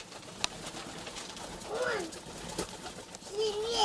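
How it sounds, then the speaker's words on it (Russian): Feral rock pigeons coo inside a room, soft wavering calls rising near the middle and again at the end, under a murmuring voice and faint handling noise. "Вот это вроде голубь, он более пугливый такой."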